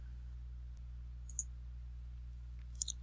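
Two or three faint, crisp computer mouse clicks sound over a steady low electrical hum, spaced about a second apart.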